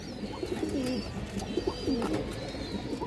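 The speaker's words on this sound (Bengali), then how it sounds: "এই দেখেন সারাক্ষণ ডাকাডাকি দর্শক, যারা এরকম ডাকাডাকি কবুতর খুঁজে নিতে পারবেন আপনারা।" A pair of army breed pigeons coo softly and repeatedly, the low throaty calls coming in short regular bursts over faint background noise.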